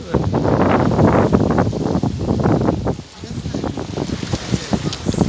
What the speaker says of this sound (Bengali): আমাদের লঞ্চ